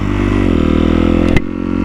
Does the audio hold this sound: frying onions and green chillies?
no